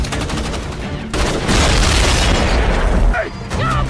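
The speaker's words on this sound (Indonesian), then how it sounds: "Tiba-tiba, Wolf terpental saat menginjak ladang ranjau" A landmine detonates during a gun battle between special forces in a film, a loud deep boom that swells into a long roaring blast after a stretch of rapid gunfire, with a voice talking over it.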